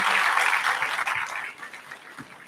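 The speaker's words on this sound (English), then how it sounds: "let's give a round of applause to those who are doing this" Applause ripples through a convocation ceremony crowd, dense clapping that starts strong and thins out over two seconds.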